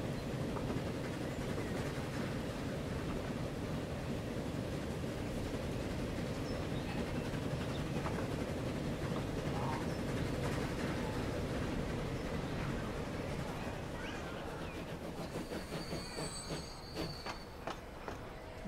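A passenger train in the video game Transport Fever 2 pulls into a station with a steady, loud rolling rumble and clatter, ending in thin, high wheel squeals as it slows to a stop.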